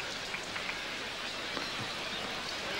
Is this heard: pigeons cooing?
no